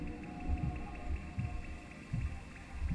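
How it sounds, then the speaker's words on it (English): A heartbeat in the video game Sable thumps faintly in a slow, regular double-beat rhythm, about four beats over a soft background hum. "I love how you can hear a heartbeat when I use it"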